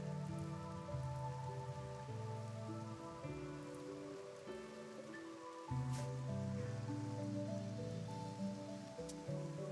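Rain falling in the video game RimWorld, a steady, soft patter that runs without a break beneath gentle sustained musical tones, quiet and even throughout.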